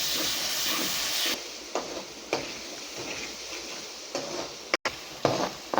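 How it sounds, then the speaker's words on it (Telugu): Ginger garlic paste frying in a pan for a mushroom chicken masala curry, a steady broadband sizzle with occasional stirring scrapes, close and continuous with no talking. "ఒక మూడు స్పూన్స్ అల్లం వెల్లుల్లి పేస్ట్ వేసుకోవాలి ఇది పచ్చి వాసన పోయేదాకా ఫ్రై చేయండి"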